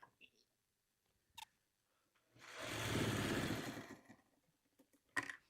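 A domestic sewing machine hums through the final green seam of a Garden Path quilt in one steady run of about two seconds, quiet and near, with faint handling clicks before and after.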